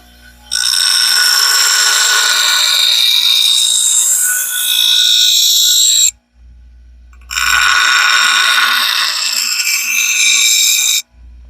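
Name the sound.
grinder shaping a forged throwing knife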